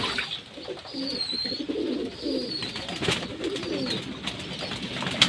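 Pigeons cooing steadily through a bathing session on a hot summer day, with soft rumbling calls overlapping and a few brief splashy or fluttering bursts in between, fairly close and continuous.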